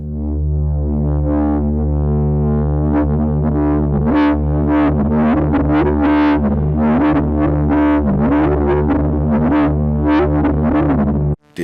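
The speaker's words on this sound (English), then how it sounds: "Just add resonance to find that moment where the sound balances around self-oscillation." A resonant synthesizer filter near self-oscillation, driven by random modulation, gives a sustained buzzy tone whose squealing resonant peak wanders up and down in irregular sweeps, loud and steady before cutting off abruptly; no voices.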